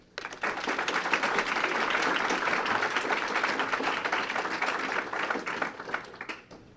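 An audience applauds steadily for a panel taking the stage at a world affairs event, a dense wash of clapping that holds for several seconds before thinning toward the end.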